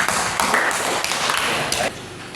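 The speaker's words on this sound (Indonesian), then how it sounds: "Kita tepuk tangan untuk teman-teman rokat." A school class clapping for classmates after a short drama, a dense burst of hand claps close by that drops off near the end.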